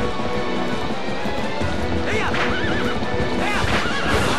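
In Zelda: Twilight Princess, a horse neighs and whinnies over galloping hoofbeats and loud game action, the shrill calls rising twice near the end.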